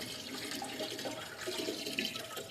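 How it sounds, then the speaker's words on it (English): Thick liquid poured into a glass pharmacy carboy in a Victorian pharmacy, a steady, continuous splashing and gurgling stream heard close up with no talk. "I'm just going to go for it and pour this straight in"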